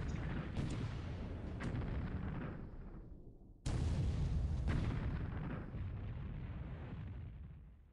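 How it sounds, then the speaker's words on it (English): Submarine deck gun shells fired in War in the Pacific, a naval strategy game: two heavy booming blasts a few seconds apart, each followed by a long dense rumbling roar that fills the whole stretch. "critical damage with the deck gun"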